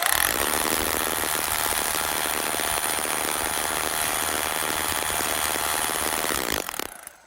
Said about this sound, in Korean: 드릴로 구멍을 네 군데를 뚫어주도록 하겠습니다